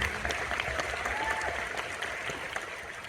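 Sustained audience applause at The Color Purple film premiere, a dense steady clapping from a large crowd that fills the whole stretch at even loudness.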